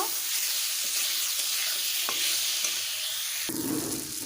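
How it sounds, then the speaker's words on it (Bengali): Soybean chunks and potato with tomato, salt and turmeric are stirred in a pan, a soft steady sizzle with occasional scrapes of the spoon and a louder stir near the end. "দিয়ে দেবো হলুদ গুঁড়ো কিছুক্ষণ একটু নেড়ে চেড়ে নেব"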